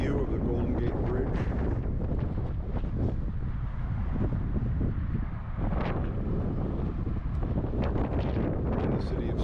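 Strong wind buffets the microphone at a Golden Gate Bridge viewpoint in the Marin Headlands, a constant loud roaring rumble with gusty swells throughout.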